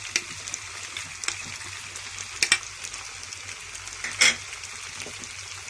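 Chicken pasta with mayonnaise, sauce and green coriander being stirred and mixed in a frying pan, a steady soft sizzle with a few sharp scrapes and clinks of the spoon, close and alone.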